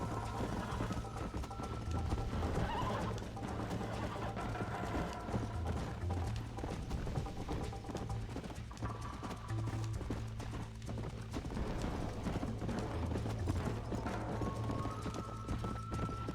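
Rhythmic clip-clop of horse hooves at a run during a long race in Red Dead Redemption, with occasional whinnies over steady background music and game sounds.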